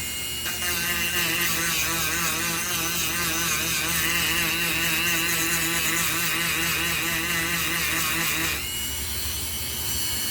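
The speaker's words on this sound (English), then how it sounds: "I'm just going to use my Dremel and sand it down all the way around" A steady, high-pitched mechanical whine of a Dremel rotary tool sanding a 13900K CPU during lapping, continuous and close, cutting out near the end.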